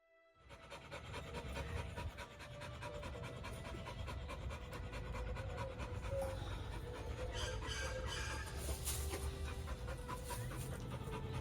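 Rapid, steady panting from two dogs close by, continuous and breathy throughout with no talking.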